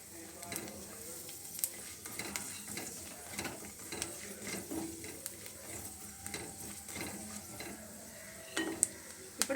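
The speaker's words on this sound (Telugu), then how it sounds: "దోరగా కలర్ వచ్చేంత వరకు వేయించుకుందాం" Dry semolina granules scraped and stirred around a hot pan while roasting, a steady gritty rasp with a faint sizzle and occasional clinks.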